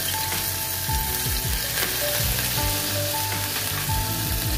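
Cumin, garlic paste and green chillies fry in a hot pan, giving a loud, continuous sizzle with repeated clinks and scrapes as the spoon stirs through the spices.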